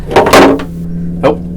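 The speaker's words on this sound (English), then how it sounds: "Oh, pickup fell down in the guitar." A guitar pickup drops inside the body of a 1970s Crestwood 2064 guitar during workshop repair, a sharp hollow rattle followed by a second brief knock, close and alone over a low steady hum.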